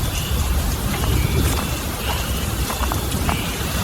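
Heavy rain pours steadily in a Kalbaishakhi storm at night, a dense continuous roar with scattered drops pattering close by and no distinct thunderclap standing out.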